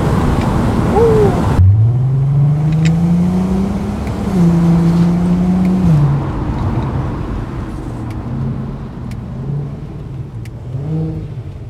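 An Audi TT MK1 V6 engine revving hard past 6000 rpm, its pitch climbing and then dropping at each gear change, heard loud from inside the car with rising and falling engine tone across several shifts.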